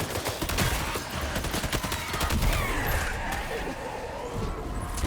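Rapid gunfire in Death Stranding 2: On The Beach, a dense stream of sharp close shots with engine-like rumble and a whooshing sweep beneath.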